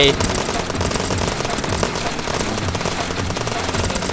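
Automatic gunfire sprays nonstop in Trailer Shop Simulator, a loud dense rattle of rapid shots filling the whole moment, with a voice heard alongside.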